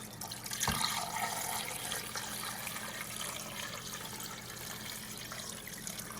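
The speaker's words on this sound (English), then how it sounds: "we're going to fill this up with water" Water runs steadily from a tap into a cooking pot, a soft continuous splashing with a brief clunk near the start, fairly quiet and without talk.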